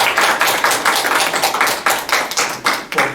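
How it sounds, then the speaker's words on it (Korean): A church congregation claps their hands together in a steady, even rhythm of loud, close hand claps that keep going throughout with no talking. "박수 한번 치세요"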